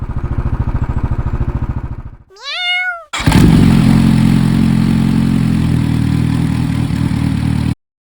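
A 2018 Royal Enfield Classic 500 single-cylinder engine idles with a steady low thump, broken by a brief high rising squeak, then a louder, rougher engine rumble that cuts off abruptly.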